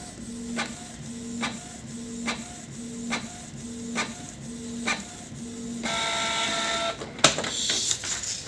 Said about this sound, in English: press the start button and it's preparing the printing